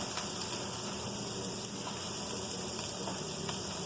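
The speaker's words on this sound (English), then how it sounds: "We're going to add 3/4 cup of water" Three-quarters of a cup of water pours steadily into a pan for taco seasoning in a burrito casserole, a continuous close gushing splash with no talk over it.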